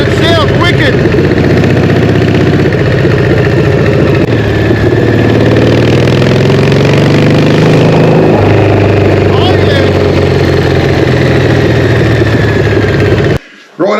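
A Harley Evo hardtail chopper motorcycle engine runs steadily at a low rumbling pitch while being ridden, loud and continuous for the whole stretch, cutting off abruptly at the end.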